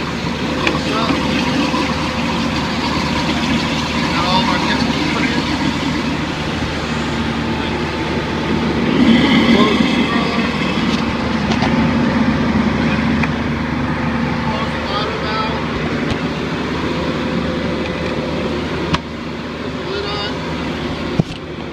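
A Rogator sprayer's engine runs with its chemical pump going, a steady close mechanical drone and hum holding at an even level, swelling slightly midway before settling.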